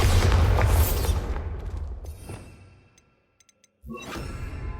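A booming Bombarda explosion spell from Hogwarts Legacy, a loud blast that decays into a rumbling tail and near silence before another sharp impact bursts in.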